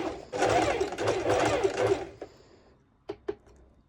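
A sewing machine runs a medium zigzag stitch for about two seconds in a close, busy rattle, then stops, leaving a few faint clicks and brief knocks.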